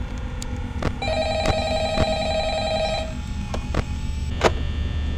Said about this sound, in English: As always, the phone.